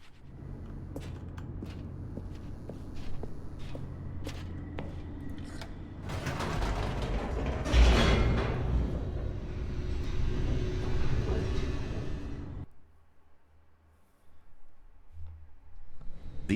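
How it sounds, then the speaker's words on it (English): An elevator in The Stanley Parable descends with a steady mechanical rumble and creaking, swelling into a louder grinding rush midway before cutting off abruptly, then a low hum resumes. "The elevator raced downward, plummeting towards an unknown fate."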